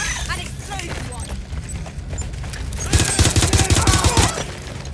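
Gunfire breaks out in Watch Dogs Legion, a rapid close volley of shots erupting in the second half over quieter game ambience, with a voice calling out in the game.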